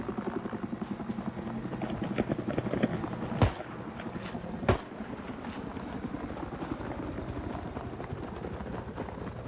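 A helicopter in the video game Battlefield 3 fills the scene with a steady, rapid rotor thrum and engine drone, with two sharp impacts cutting through midway.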